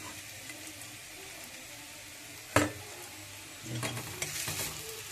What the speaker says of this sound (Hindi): प्याज भी फ्राई होगी अच्छे से